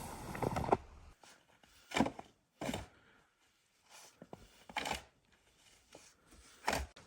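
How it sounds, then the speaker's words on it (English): A shovel digs out snow at a campsite, sharp scraping chops in irregular strokes, about eight, with quiet pauses between, fairly close. "Toby's just shoveling out an area so that when it melts, or when we set up the tent, we're not going to sink and flood the tent"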